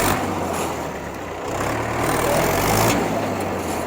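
A Trakstar 550 tractor's three-cylinder engine runs close by with a loud, steady low rumble that dips briefly and then swells as the throttle is given.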